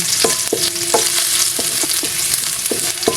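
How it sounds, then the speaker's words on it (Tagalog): Ginger sautéing in a pan with a constant crackling sizzle, punctuated every half second or so by sharp spatula scrapes and knocks against the pan. Close and fairly loud, with no one talking. "ilagay yung luya mga Karchi Vlogs para lumabas yung kanyang aroma. Gisa-gisahin lang natin ng maigi."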